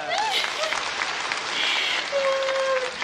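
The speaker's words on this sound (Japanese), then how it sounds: "はい拍手" Studio audience applause at a Japanese comedy variety show, a steady wash of clapping with whistles or tonal squeals layered on top.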